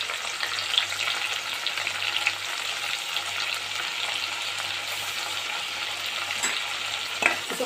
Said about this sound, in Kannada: ಈಗ ಇದಕ್ಕೆ ಟೊಮೊಟೊ ಹಾಕ್ಕೊಳ್ತಾ ಇದ್ದೀನಿ.